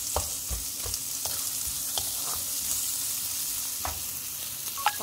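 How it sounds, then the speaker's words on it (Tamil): Onions sautéing with a little salt in a pan for a spicy vegetable pulao, a steady close sizzle with intermittent scraping stirs and a faint clink near the end. "ஆனியன் வதங்குறதுக்கு வந்து லைட்டாக உப்பு போடுறேன் இப்போ வதக்கட்டும்"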